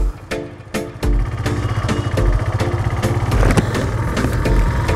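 A motorcycle engine idles near the Bhutan border gate, a close, loud, steady thumping putter after a few sharp knocks at the start, with no talk over it.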